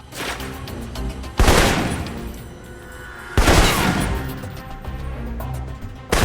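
Assault rifle shots in the video game Alpha Protocol, two loud distinct bursts a couple of seconds apart with ringing decay, and a third starting at the end, over steady game ambience.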